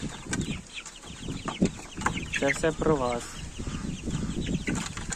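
A flock of young roosters and chickens clucks and calls busily nearby, with one bird's drawn-out crowing cry rising in the middle while someone speaks briefly over the birds.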